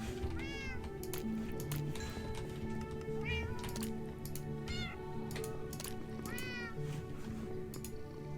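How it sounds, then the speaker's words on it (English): Several cats in the video game Minecraft meow repeatedly, overlapping one another in bursts over a steady background of game music and ambience. "Cats everywhere."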